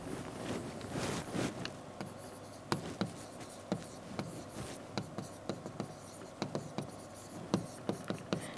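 Pen writing by hand on paper while a truth table is drawn out, with scratchy strokes and a rapid run of short taps, steady and close, under faint background hiss.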